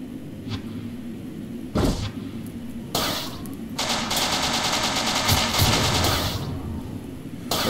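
Enemy gunfire in the space combat game Starfighter Infinity: bursts of rapid machine-gun-like shots and sharp blasts over a steady engine drone, growing dense and loud in the middle before easing off.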